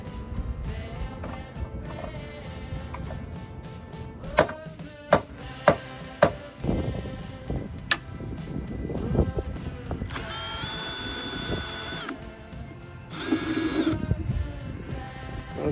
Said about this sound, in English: there's two very nicely rusted bolts here that I'm gonna have to remove